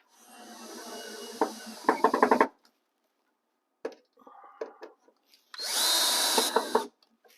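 A power drill drives screws into wooden benchwork risers in two close, loud bursts, each a whirring spin that tightens into rapid clicks as the screw seats, with a quiet gap and faint handling noises between them.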